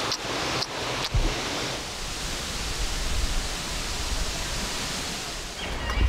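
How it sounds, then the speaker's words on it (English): A waterfall in a canyon pours as a steady, dense rushing roar from start to finish, with a few brief knocks near the beginning. "We are in some canyon with a waterfall"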